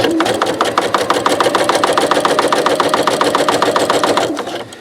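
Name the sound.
sewing machine twin needle topstitching knit fabric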